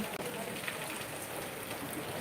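Rain falls steadily on the day after Diwali, a dense, even hiss of drops on surfaces with no pauses and no voices.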